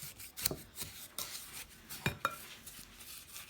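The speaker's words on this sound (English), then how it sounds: "I got my spatula out because I had to get the peanut butter out, but let's give this a mix." Peanut butter cookie dough being mixed in a bowl with a spatula: soft scraping and clinking strokes in an uneven rhythm, fairly close and quiet, no voices.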